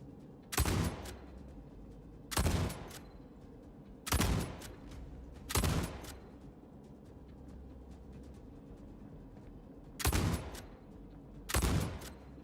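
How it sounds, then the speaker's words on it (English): Gunfire rings out in the Star Citizen video game during the Siege of Orison, with six sharp, loud bursts of shots spaced a second or two apart over a low, steady background hum. "Laying down covering fire."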